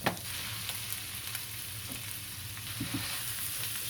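Partly frozen ground meat for shepherd's pie frying in a pan, a steady loud sizzle with crackling pops and occasional scrapes of stirring, no talk.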